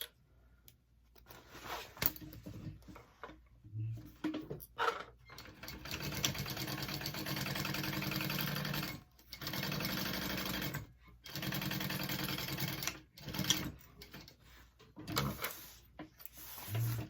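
A sewing machine basts a handbag lining in several close, steady runs of rapid stitching, separated by short pauses, with faint handling noises between bursts.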